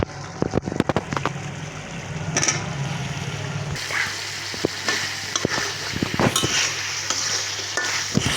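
Potatoes fry in a pan for a rohu fish curry with raw tomatoes, a steady close sizzle broken by sharp scraping stir strokes, first clustered early on and then spaced out over a continuous hiss.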